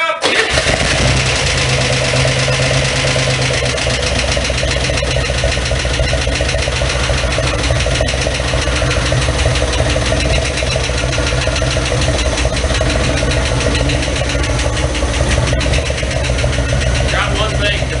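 Engine of a Spyder cranked and then left idling, a loud continuous close-up rumble with steady mechanical clatter running throughout.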